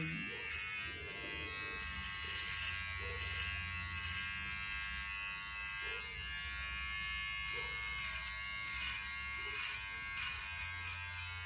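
Electric clippers shave a person's hair, a steady high buzzing drone running the whole time at a constant level, with faint bumps as the blades move across the head and no speech.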